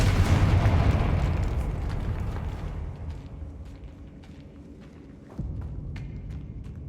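The Confringo fire spell exploding in a Harry Potter video game, with a loud, rumbling blast that fades over a few seconds, followed by soft scattered clicks, footsteps and a second thump.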